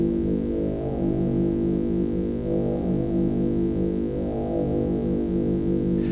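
A small Bastl Kastle modular synthesizer pulses a low, buzzy, harmonic-rich tone in a steady repeating rhythm, with no voices.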